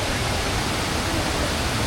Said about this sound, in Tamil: ஸோ இங்கே வந்து கம்மியாக தான் ஊற்றுது தண்ணி.